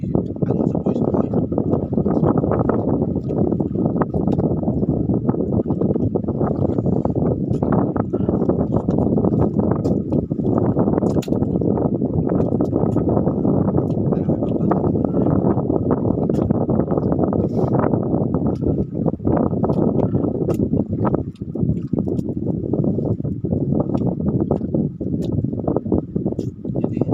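Strong wind blowing at an island campsite, a loud continuous roar buffeting the microphone for the whole stretch, with a voice faintly underneath.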